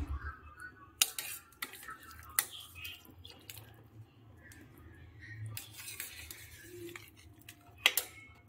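A spoon stirring chicken kosa curry with water in a metal pot, quiet repeated scrapes and clinks against the pot with a few sharper metallic knocks.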